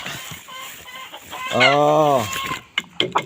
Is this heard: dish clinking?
no